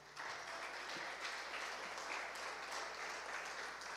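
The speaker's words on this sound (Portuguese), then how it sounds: "Aplauda o Senhor." Congregation at a church service applauds, a continuous, even roar of clapping held at steady volume throughout.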